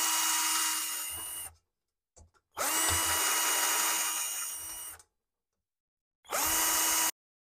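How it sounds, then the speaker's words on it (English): A power drill whirs in three bursts, two long and one short, each rising to a steady high whine before stopping abruptly. "So I've used the drill bit."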